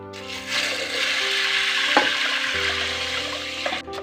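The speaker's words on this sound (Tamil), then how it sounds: "அதில் 5 கப்பு தண்ணி சேர்த்திக்கிறேன்." Water pours steadily from a vessel into a pot of mung beans being readied for pressure cooking, a continuous close splashing rush with a brief clink partway through.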